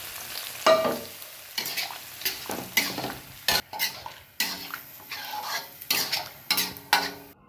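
Chopped onion and garlic frying in oil while a spatula stirs them, a steady sizzle punctuated by rhythmic scrapes and metallic clanks against the pan, close and prominent with no voices.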